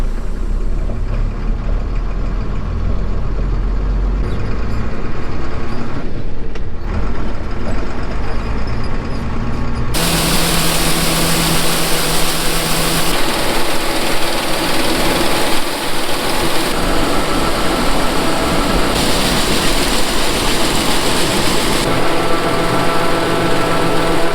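Combine harvester engine running steadily as it moves across a bean field, a loud continuous drone with a steady hum that shifts in tone partway through, with no talking.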